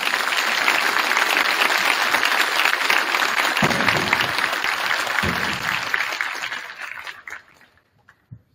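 An audience at a middle school academic recognition ceremony applauds honored students, a full, busy clatter of clapping that stays strong for several seconds, then fades and dies away into quiet.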